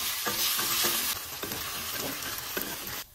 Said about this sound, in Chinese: 锅热倒油。 放入腌制好的牛肉，